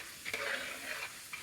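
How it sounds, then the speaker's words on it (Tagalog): Popcorn kernels are stirred in oil in a pan, a brief soft scraping over a steady low sizzle, close and alone. "Halu-haluin lang natin para Pero ang daming mantika pa."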